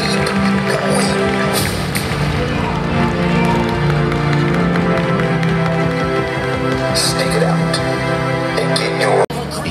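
An audience at a Finnish fitness competition in Vantaa applauds and cheers the day's first national champion, a dense, sustained wash of clapping under music from the hall, with an announcer's voice heard over it before the sound drops off sharply at the end.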